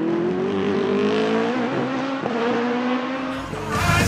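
A Rebellion race car engine revs hard up close, a loud rising whine that climbs and drops through several gear-like steps before a final roaring burst.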